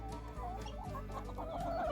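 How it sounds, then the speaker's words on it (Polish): A farmyard rooster named Stefan gives soft, close clucks in a brief continuous run. "mamy naszego bohatera wiejskiej zagrody, koguta Stefana"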